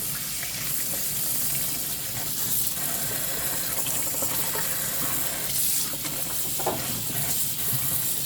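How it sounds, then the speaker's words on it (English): Running tap water pours steadily over white button mushrooms being rinsed of soil in a sink, a continuous close splash with faint handling sounds and no talking. "we have to wash our mushrooms properly because there are some soil in it"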